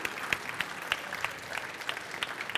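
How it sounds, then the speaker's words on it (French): An audience applauds the chefs at a gourmet cooking show, steady dense clapping from a mid-distance crowd with a few sharper individual claps standing out, faint voices underneath. "On peut les applaudir."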